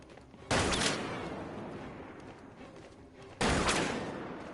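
Gunfire in the Batman Arkham Knight video game: two loud, sudden bursts of shots, each followed by a sustained rumbling tail, with a steady noisy game background between them and no talk.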